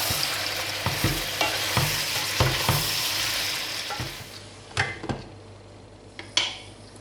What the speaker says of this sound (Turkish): Bir də soğanını tez atdım ki, yəni soğanla bir yerde eyni vaxtda qızarsınlar, pişsinlər ki, çox bərkiməsin ciyər